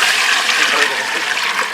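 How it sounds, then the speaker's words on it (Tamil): Water poured into a pan of egg masala curry while it cooks, a steady continuous splashing gush lasting throughout, close and fairly loud. "அடுத்து தண்ணி ஆட் பண்ணிக்கலாங்க"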